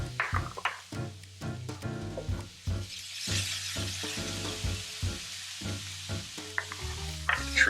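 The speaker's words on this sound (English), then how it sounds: "Get this nice and sauteed." Food sautés in a hot pan for a breakfast dish, a steady close sizzle broken by scraping stirs and clinks of a utensil against the pan, with no talking.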